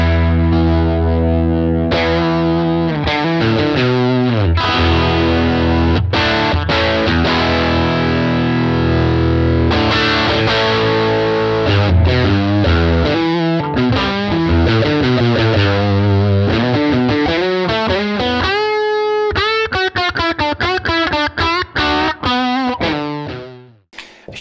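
Electric guitar through a Fender Tonemaster Princeton Reverb combo with effect pedals, loud distorted chords and riffs with modulation and echo, played steadily for over twenty seconds before cutting off.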